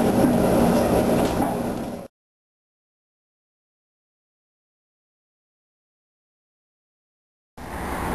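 Inside a train carriage bound for Boston, a loud steady rumble of rolling wheels and car noise fills the opening two seconds, then cuts to silence and returns briefly at the end.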